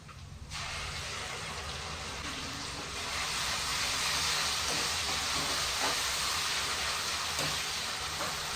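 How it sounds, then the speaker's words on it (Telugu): Tomato and onion paste hits hot oil for a cashew chicken curry, giving a loud, continuous steamy hiss and sizzle that swells after a few seconds and holds steady to the end. "ఫ్రై అయింది ఇప్పుడు మనం టమాటో ఆనియన్ పేస్ట్"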